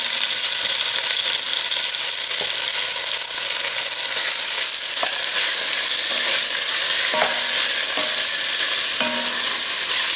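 Turkey tenderloin fries in a hot pan on medium-high heat, giving a loud, continuous sizzle with a few scattered clicks.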